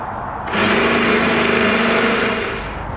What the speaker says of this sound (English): Next, I'm going to drill the holes that match up with the holes of the light that you have.